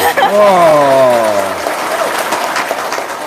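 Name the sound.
audience applause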